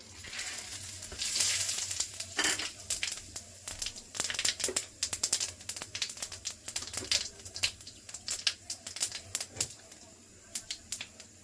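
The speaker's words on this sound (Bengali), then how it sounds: "আলু ভাজার তেলে ফোড়ন দিয়ে নেব," Bay leaf and cumin seeds temper in hot oil left from frying potatoes, crackling and popping in sharp irregular bursts close by over a faint background sizzle.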